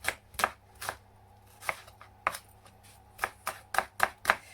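A knife chops a spring onion on a cutting board in about a dozen sharp, close taps that come at an uneven rhythm and grow quicker toward the end, with no talk over them.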